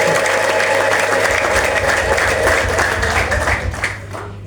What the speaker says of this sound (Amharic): ጭብጨባ ይስጥ።